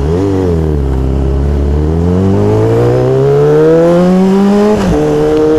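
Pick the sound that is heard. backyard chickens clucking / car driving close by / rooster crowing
car driving close by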